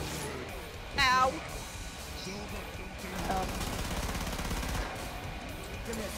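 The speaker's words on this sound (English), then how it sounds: "I just randomly shot and I actually got him" Gunfire crackles in the video game Killing Floor, with a sharp burst of shots standing out over a constant bed of loud in-game noise.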